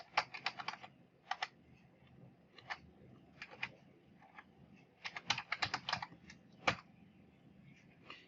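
Typing on a computer keyboard into a Chrome address bar, with quiet scattered clusters of key clicks and pauses between them, close but soft.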